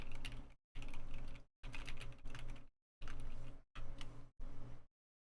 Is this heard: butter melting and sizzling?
no